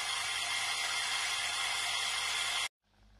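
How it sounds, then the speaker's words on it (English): A Nissan EGR valve running under diagnosis for a fault, a loud, steady, hissing whoosh that holds for a few seconds and then cuts off abruptly into quiet. "And you can hear the EGR going."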